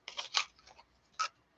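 Scissors snipping during a sewing and craft session, a quick run of three or four crisp clipping sounds followed by a pause and one more sharp snip, quiet and close.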